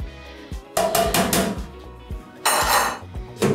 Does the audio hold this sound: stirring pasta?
yes